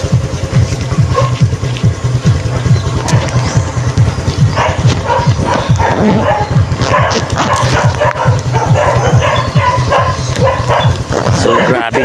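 Several dogs bark and yip excitedly at close range, with a person talking over the noise throughout.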